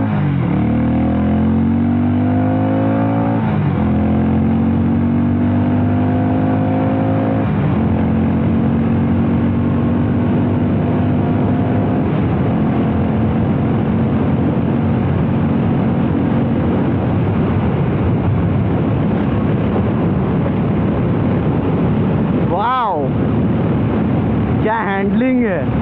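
A Harley-Davidson X440 motorcycle engine drones loudly and climbs in pitch through the gears as it speeds along, with heavy wind rushing over the microphone.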